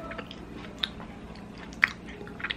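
A hard, crispy cocoa cookie is bitten and chewed close up, with a few sharp crunches scattered over soft chewing noises.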